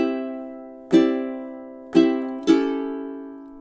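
Three strummed chords on a ukulele in measure 12 of a song, each ringing and decaying, the last two closer together, with no voices over the playing.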